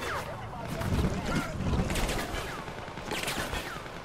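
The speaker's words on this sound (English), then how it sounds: "You don't like being shot with machine gun fire from your own troops?" Machine gun fire rattles in Prototype 2 in rapid, overlapping bursts with a low rumbling bed beneath, fairly loud and sustained, while a voice talks over the shooting.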